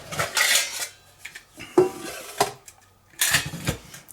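A 1.3 litre metal pot is fitted into a wood gas stove, giving several separate metallic clanks and scrapes in short bursts with quiet gaps between them, close by.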